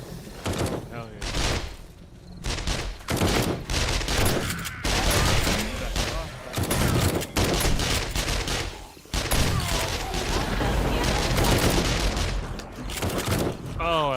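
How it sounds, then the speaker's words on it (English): Dense, rapid gunfire from the 7 Days to Die video game during a horde night, with bursts and volleys filling the clip almost continuously, loud and close, while someone talks over it. "Oh, I love shooting at the stuff from it."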